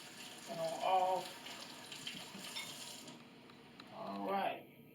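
Tap water runs into a kitchen sink while vegetables are rinsed under the faucet, a steady splashing stream that swells at the start and again near the end as the produce moves through the flow.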